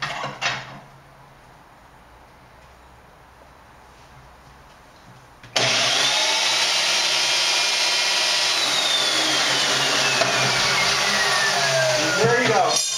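An electric rebar bender bending threaded rods, starting abruptly after a quiet stretch into a loud, steady motor whine with rising mechanical tones that holds to the end.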